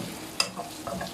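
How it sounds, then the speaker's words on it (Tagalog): Chicken gizzard with garlic sautéing in a pan, a brief soft sizzle with a quick stir scrape near the start. "habang ginigisa natin ang gizzard, chicken gizzard, may bawang."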